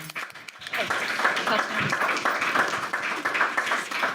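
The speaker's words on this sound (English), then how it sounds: "I think that deserves a huge round of applause." A large school audience, most standing, gives a sustained round of applause, a dense wash of clapping filling the room after a voice briefly speaks.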